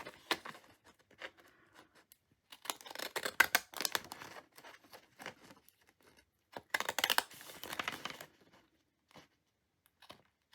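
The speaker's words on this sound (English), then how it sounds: "taking my scissors, and we're going to cut about a centimetre away" Scissors cut paper close by in irregular bursts of crisp snipping and rustling, with short pauses between. A denser run of cuts comes toward the end, and no one speaks.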